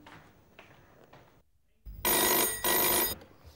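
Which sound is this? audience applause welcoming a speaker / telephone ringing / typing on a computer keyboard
telephone ringing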